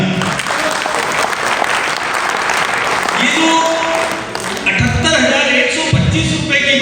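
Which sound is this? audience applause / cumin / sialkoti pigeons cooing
audience applause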